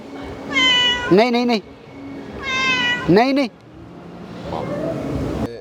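A cat meows twice in a row, each a drawn-out rising-and-falling call, close and loud, over a low hum of a road vehicle in the background.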